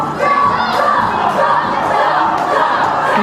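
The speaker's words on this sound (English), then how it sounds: "The crowd are chanting for chops." Crowd at a live UKW Showdown wrestling event chanting and shouting together for chops, loud and sustained throughout with a dense, roaring mass of voices.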